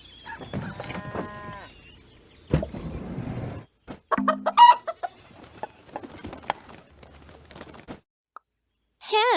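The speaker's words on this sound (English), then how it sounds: "Chicken." A chicken clucks in short, irregular bursts with quiet gaps between, close by, mixed with a few sharp clicks and knocks.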